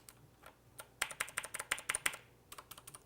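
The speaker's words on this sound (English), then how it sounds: "we can definitely hear the contrast between the two keys, so it's much louder." Cherry MX Blue switches on a GAMDIAS Hermes mechanical gaming keyboard click in a quick, uneven run of sharp, close keystrokes, sparse at first and then dense, recorded fairly quietly with no speech.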